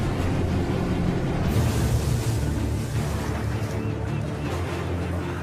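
A boat engine churns loudly and steadily with throttle, hauling a hooked shark at Hans Bay, a broadband rumble mixed with water wash and faint voices underneath.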